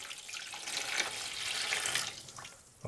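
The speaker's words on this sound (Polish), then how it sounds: "Naleję sobie tą wodę obok." Water, 400 g measured for pizza dough, pours steadily into a container in a home kitchen, a close hissing stream for nearly three seconds that trails off at the end, with no talking.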